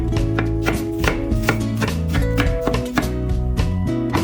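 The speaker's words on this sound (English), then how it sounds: "Cut your favorite meats and vegetables as you like." Meats and vegetables being chopped for Sichuan skewers, a rapid, steady series of close knife chops on a cutting board, loud and rhythmic with no talking.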